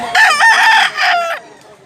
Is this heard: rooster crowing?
yes